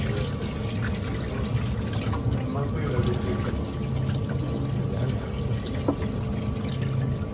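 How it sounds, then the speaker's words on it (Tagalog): Tap water runs steadily over seabass roe being rinsed for bottarga, a continuous close splashing wash that holds even for the whole stretch. "Banlawan ng tubig."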